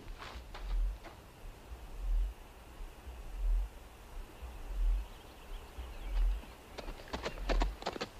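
Horses galloping in a western film: soft, fairly distant hoofbeats come in regular waves of low thuds, with a few sharper clattering hits near the end.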